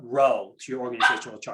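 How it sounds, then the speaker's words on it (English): A puppy barks in short yappy bursts mixed with someone talking close by, the barks loud and overlapping his speech. "I apologize if you heard a dog barking."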